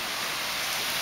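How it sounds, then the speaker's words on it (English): Heavy rain pours outdoors in a dense, steady hiss that fills the whole moment without any break. "And look how badly it's raining out here."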